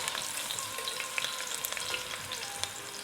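Onions frying in a pot for a South African crab curry: a dense, continuous close sizzle and crackle with small popping bursts throughout, no voices.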